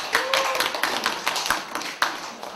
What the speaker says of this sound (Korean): 고생하신 사장님 박수 한번 쳐주세요.